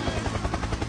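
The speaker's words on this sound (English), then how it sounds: "Helicopter, helicopter!" Helicopter in a Roblox video game, a loud, steady broadband whir with rapid rotor pulsing, close and continuous for under a second.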